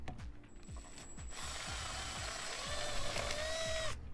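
Ratchet turning out bolts on a Jeep Rubicon 4xe while fitting Mopar grab handles: a run of quick, evenly spaced clicks up close, then a sustained whirring buzz, with no talking.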